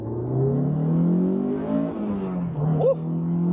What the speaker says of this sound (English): See if we can hear that VTEC.